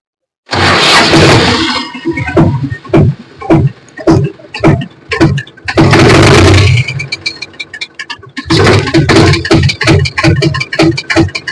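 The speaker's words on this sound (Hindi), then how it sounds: "फिर से हम एक बार स्टार्ट करके दिखाना चाहते हैं" A diesel tractor engine is cranked and fires up in loud bursts, with rapid ticking knocks between starts, catching, dying back, then starting again into a choppy idle close to the microphone.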